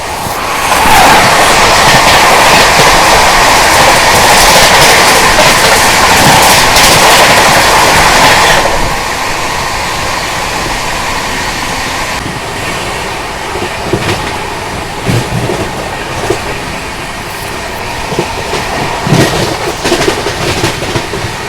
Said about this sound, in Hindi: ये जबलपुर हजरत निजामुद्दीन मध्य प्रदेश संपर्क क्रांति एक्सप्रेस।